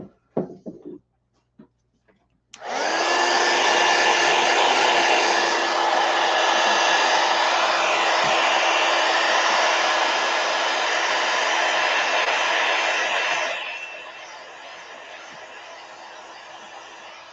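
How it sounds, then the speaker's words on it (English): A heat gun runs continuously and loudly on a journal page with a steady whoosh and hum for about eleven seconds, then drops to a softer blowing level near the end, following a few brief knocks. "Let me hit this with a heat gun"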